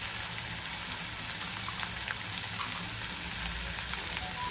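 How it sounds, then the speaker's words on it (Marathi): Curry leaves dropped into hot oil sizzle with a steady, crackling hiss that stays even and fairly faint throughout, alone without talk. "तर कढीपत्ता आणि तेलात टाकते थोडंसं"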